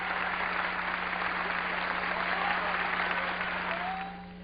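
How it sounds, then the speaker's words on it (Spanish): A large crowd applauds at a Catholic Mass in Ciudad Juárez, a dense, sustained clapping that fades slightly near the end. "Un aplauso para el Señor."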